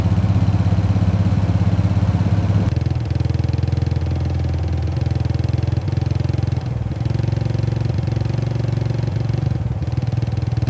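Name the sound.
Royal Enfield Bullet motorcycle engine arriving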